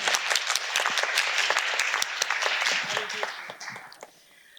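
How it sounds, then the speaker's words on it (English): An audience at an art and technology handover ceremony applauds the production team, a sustained crowd clapping with sharper individual claps standing out before it fades away. "We didn't get a chance to applaud the team, so I ask you to please join me"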